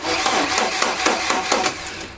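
A Porsche engine with a starting problem cranks over without catching, a loud, close, rhythmic churning of the starter with regular pulses for a couple of seconds, no voices.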